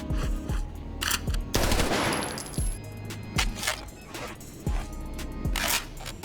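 Rapid automatic gunfire from an M4 rifle in the shooter game Arena Breakout Infinite, loud sustained bursts with a brief pause and mechanical clatter between strings of shots.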